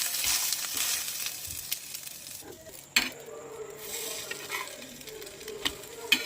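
Milk-and-egg-dipped bread toast fries in a pan and sizzles steadily up close. Occasional sharp clinks and scrapes are heard as the slices are turned.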